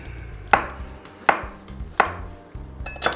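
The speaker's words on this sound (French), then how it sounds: "je vais juste émincer, enlever les pieds des champignons, les émincer assez" A knife cuts mushrooms thickly on a cutting board in four evenly spaced, crisp thuds, close and clear with no talking.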